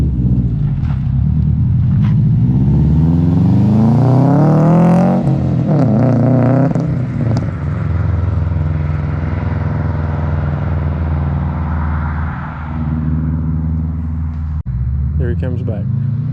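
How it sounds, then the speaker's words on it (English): 2011 Subaru with an eBay aftermarket exhaust pulling out, its engine revving loudly up close with a rising then settling drone, accompanied by clattering. "here is the sound clip of him pulling out"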